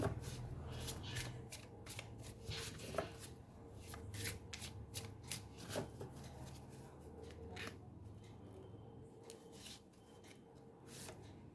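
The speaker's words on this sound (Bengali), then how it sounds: "কার্ড চলে আসতে চাইছে, বাট আমি শাফল করিয়ে নেব।" A deck of tarot cards is shuffled up close in a series of crisp riffling bursts and soft slides, repeated rhythmically at moderate volume with no talk over it.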